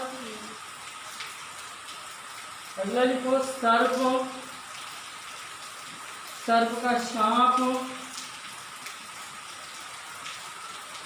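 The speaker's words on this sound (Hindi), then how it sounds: "आवाज थोड़ा सा आएगी आपकी वीडियो में, वो बरसात हो रही इसी कारण है" Rain falls outside in a constant soft hiss that runs the whole time beneath a man who dictates words in two short spoken bursts.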